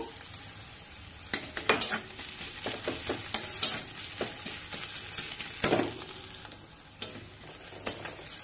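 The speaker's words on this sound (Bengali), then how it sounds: "এবার আদার কাঁচা গন্ধ যাওয়া অবধি ভেজে নিয়ে" Ginger paste fries with browned onions and garlic in a pan for a rohu fish curry, a low sizzle broken by a series of sharp spatula scrapes and taps, close up and without speech.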